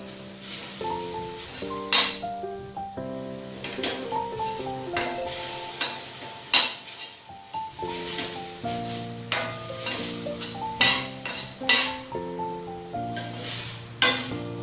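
Food cooking in a pan for mini bread pizzas is stirred again and again, with irregular scraping and knocking of a utensil over a soft sizzle, close and busy throughout.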